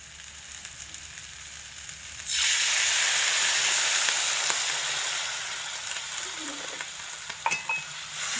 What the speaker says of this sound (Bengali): এবার এর মধ্যে আমি সাইড দিয়ে অল্প করে জল দিয়ে দেবো